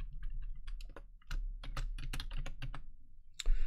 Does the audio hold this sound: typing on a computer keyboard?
yes